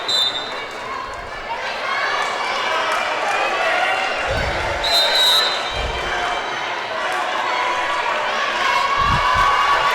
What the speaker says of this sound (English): Crowd getting hype.